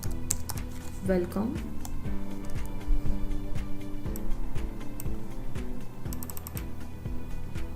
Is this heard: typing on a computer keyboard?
yes